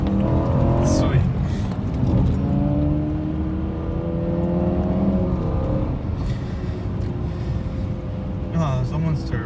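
A BMW E92 M3 races by at a Puerto Rico track, its engine droning loud and steady with rising turbo whine and revving throughout, while people talk close by over it.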